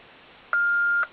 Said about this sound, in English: until it beeps, a long beep